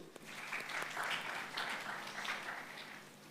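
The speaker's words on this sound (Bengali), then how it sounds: "তোমাদের জন্য করতালি।" An audience at an Islamic quiz event applauds a team's answer with sustained, even clapping from many hands, moderately distant and steady for several seconds.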